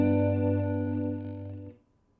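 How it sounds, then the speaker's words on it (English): A major 7 chord rings out on a Yamaha RevStar electric guitar: one full, sustained chord with an effects-coloured tone that holds for under two seconds, then is cut off abruptly into near silence. "That's a major 7 chord."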